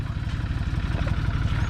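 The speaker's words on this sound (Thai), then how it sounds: "เสียงจอนเดียนะครับ" A loud, close John Deere 5310 tractor engine idling with a rough, rapid knocking clatter from a loose gearbox, steady throughout with no voices.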